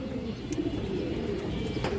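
A pair of pigeons coos softly and steadily, a low murmuring sound that fills the short stretch without pauses, with faint chirps and rustling over it.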